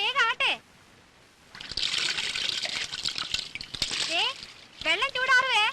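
Bath water splashing and pouring in a household bathing area, a few seconds of hissing, sloshing water between stretches of people talking, with voices before and after the splashing.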